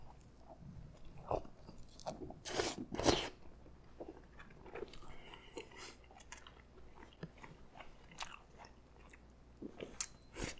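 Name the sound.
crunching an ice cream cone in hot spicy ramen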